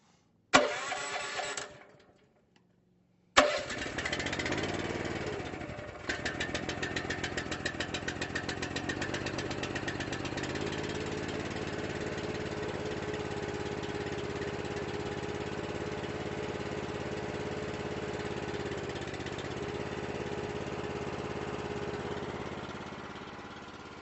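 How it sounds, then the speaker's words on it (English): An Anderson IFX-660 bale wrapper's engine cranks briefly, cuts out, then fires on a second attempt and settles into a steady, loud idle that runs on evenly for about twenty seconds, with no speech. "you got your engine started. Of course, it's just at idle"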